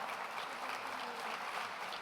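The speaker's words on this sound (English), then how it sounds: "applaud only twice tonight, at the end and now, as we welcome our candidates to the stage" An audience at a Washington U.S. Senate debate in Spokane applauds to welcome the candidates to the stage, with steady, even clapping throughout that is fairly faint and heard alone.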